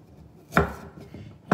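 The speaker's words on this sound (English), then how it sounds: "I just want to cut these into a little bit more uniform pieces here" A knife chops salsify root into uniform pieces on a cutting board, two sharp, close thuds about a second apart with quiet handling between them.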